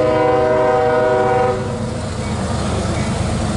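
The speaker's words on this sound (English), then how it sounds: "I was wondering when the first train gonna come." A CSX freight train horn sounds steadily for a moment, then cuts off, leaving the low rumble of the mixed freight train rolling past nearby.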